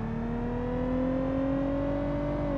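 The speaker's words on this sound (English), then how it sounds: "Oh, this revs quite well, actually." Simulated car engine in the BeamNG driving game revving steadily under heavy throttle, a smooth rising tone held loud and close for the whole stretch with no talk.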